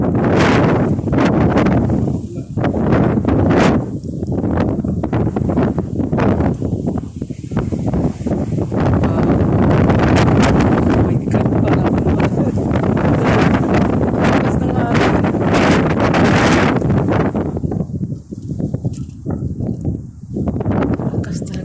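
Strong, relentless wind roars during a sandstorm in Kuwait, with heavy buffeting gusts beating against the microphone the whole time. A person speaks briefly over the blowing.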